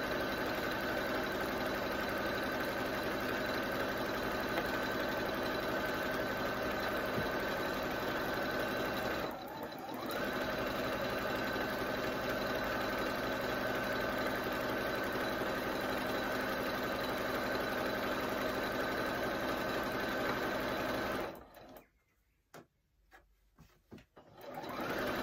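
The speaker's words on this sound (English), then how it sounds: "I'm just going to press sew now and see what happens" A sewing machine runs a circle with its circle-sew feature, stitching in a steady, close mechanical hum for about twenty seconds with one brief dip partway through, then stopping and leaving near silence.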